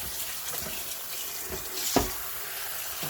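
Chocho, carrots, yam and sweet potato rinsed under a running kitchen tap, giving a steady hiss of flowing water with small splashes and one brief knock, close and moderately loud, with no talking.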